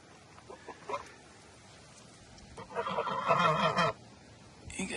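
Geese honk in a noisy burst close by outdoors, a loud cluster of calls lasting about a second before a brief return, with no talking.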